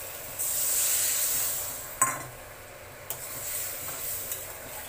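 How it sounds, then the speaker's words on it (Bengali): Water poured into fried spice paste in a pan for a fish curry with mango: a loud, close burst of sizzling hiss that fades, followed by a few knocks of a spoon against the pan. "এবার আমি এর মধ্যে জল দিয়ে দিচ্ছি একটু"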